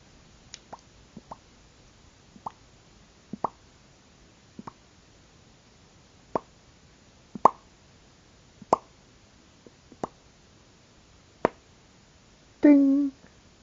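Clamps come off a freshly glued guitar body in a series of sparse, sharp clicks and knocks spaced a second or two apart in a quiet room, ending with a brief louder rattle.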